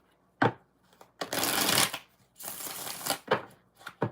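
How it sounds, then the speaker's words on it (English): Tarot cards are shuffled by hand in several quick bursts, crisp riffling rasps separated by short pauses and taps, close and clear. "5 shuffles for John"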